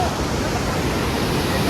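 Mountain water rushes in a steady, loud, unbroken roar beside a trail on the Kedarnath trek, close to the listener, with no other sounds standing out.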